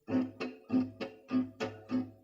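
Guitar strings plucked with finger and pick together, seven clear notes or chords in a steady rhythm, close and moderately loud with a warm, ringing body.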